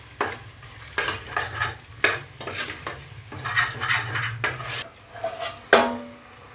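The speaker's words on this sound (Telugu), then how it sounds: "ఈ కిడ్నీలని కలుపుతూ పచ్చివాసన పోయేంత వరకు వేయించుకున్నాము" Goat kidneys frying in oil in a pan, stirred with a utensil in repeated scraping strokes over a low steady sizzle, with a sharper clink of metal near the end and no talking.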